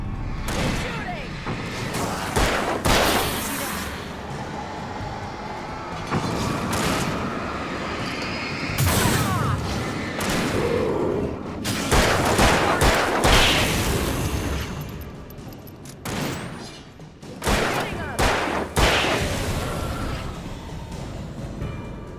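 Gunfire and explosive booms in the Alan Wake video game come in scattered bursts of sharp cracks and blasts. Between the shots there is a rumbling, whooshing game soundscape.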